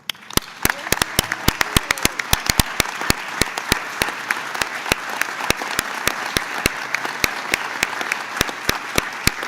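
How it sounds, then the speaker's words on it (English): Audience applause at a congressional committee markup hearing, sharp close claps ringing out over a softer bed of clapping, steady for several seconds. "we'll give you another round of applause."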